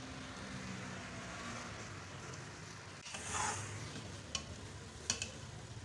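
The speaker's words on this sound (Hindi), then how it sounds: "इसकी मैं कोई 5 मिनट बुनाई करूँगी" Mutton liver, heart and lung masala is stir-fried (bhuna), a steady low sizzle and scraping stir running throughout, with a few brighter spoon clinks near the end.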